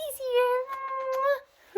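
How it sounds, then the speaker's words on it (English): Pet cat named Vina giving a long, drawn-out meow close by, rising slightly and tailing off, followed by a short second call at the end. "my cat's coming downstairs"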